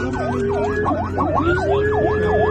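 An ambulance siren wails in a steady repeating hi-lo sweep on an emergency run along the Simatupang toll road in Jakarta, loud and close over constant traffic rumble.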